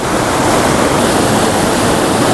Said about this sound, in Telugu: ఇలా వెళ్తుంది వాటర్